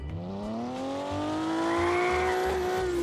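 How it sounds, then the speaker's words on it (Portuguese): Engine of an American muscle car in a car-sale simulator game runs steadily throughout, a continuous droning hum that rises slowly in pitch, loud and alone with no talking. "Dormimos com o motor a trabalhar."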